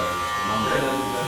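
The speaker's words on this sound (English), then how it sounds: "we're gonna do clipper over comb on the top" Steady buzzing hum of electric hair clippers running close up while trimming hair clipper-over-comb on top of a man's head, continuous with no break.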